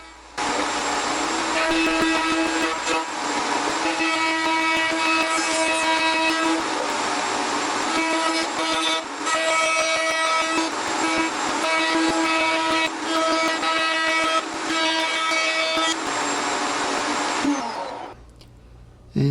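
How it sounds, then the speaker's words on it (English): A router table cuts parts from a hardboard template, the motor whining loudly and steadily close up with a shifting cutting tone across several passes, then spinning down at the end. "I'm using the router table to cut out the shape of the parts themselves using the template as a guide"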